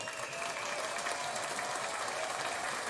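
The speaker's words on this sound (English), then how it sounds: "Brucey gets a round of applause." A studio crowd's round of applause plays as a sound effect during a sports betting show, dense steady clapping that stays loud and even for about three seconds with no voices over it.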